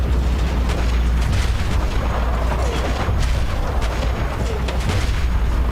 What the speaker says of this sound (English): they're kind of just shooting missiles and it's not very nice